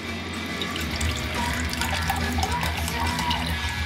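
A 50-50 mix of apple juice and apple cider vinegar pours steadily into a container for a pork shoulder blade roast on a Weber kettle, giving a continuous close liquid splash and trickle with no talking.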